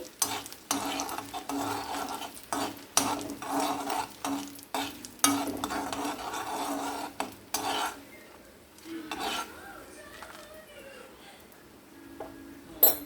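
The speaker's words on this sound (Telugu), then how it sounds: "ఈ పోపు గింజలు బాగా వేగనివ్వండి క్రంచీగా ఉంటుంది" Seeds for tomato chutney sizzle in hot oil in a pan while a spoon stirs and scrapes in bursts, with clinks of metal, then the frying softens near the end; no talking.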